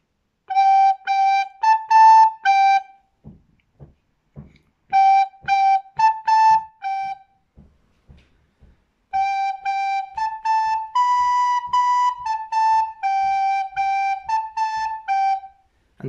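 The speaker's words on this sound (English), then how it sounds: "On recorder, it sounds like this." A recorder plays a lesson piece alone in three phrases of clear sustained notes, with short gaps and faint knocking between phrases.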